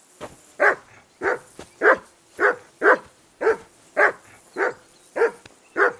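A dog in Kingdom Come Deliverance II barks about eleven times in a steady, evenly spaced rhythm, each bark short, sharp and fairly close, with quiet gaps between them.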